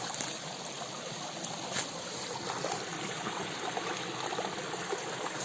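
Steady broadband rush of a stream flowing over rocks, continuous and fairly close, with no voices.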